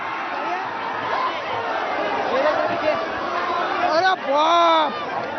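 A panicked crowd scatters when a bull startled by firecrackers runs into a village procession in Latur. Dense chatter and babble swell into loud, rising shouts toward the end.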